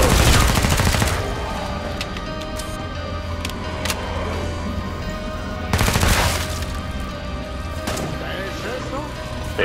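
Bursts of loud gunfire crack out in the video game Killing Floor 2, heaviest at the start and again midway, with sharp reports over a busy background of game noise.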